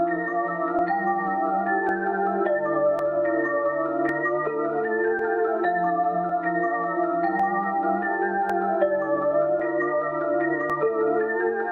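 A melody played with a bell sample in FL Studio: a series of clear, ringing, pitched notes in a steady rhythm that change pitch every second or so, heard alone with no voices.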